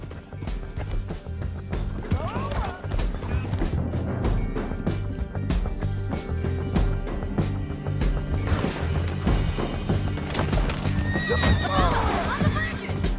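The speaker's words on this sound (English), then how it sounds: "Get him on your horse." Horses gallop with rapid clip-clopping hooves and repeatedly neigh and whinny in the Red Dead Redemption 2 video game, loud and close amid clattering action and crashes.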